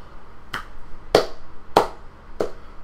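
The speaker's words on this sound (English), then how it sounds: "I'm just going to clap a slow tempo and do what I do" Four sharp hand claps at a slow, even tempo, close and distinct with clear gaps between them, setting a beat during a choral rhythm lesson.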